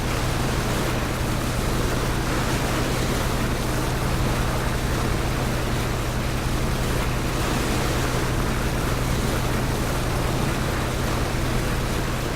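Water sloshing and splashing while a character swims in the battle-royale video game PUBG, a steady, dense wash of noise like surf that holds evenly throughout with no speech.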